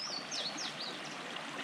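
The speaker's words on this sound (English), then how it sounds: "it brings us to yet another stream crossing" A rocky stream on a waterfall trail flows steadily over stones, a close, even rushing wash with a few faint bird chirps above it.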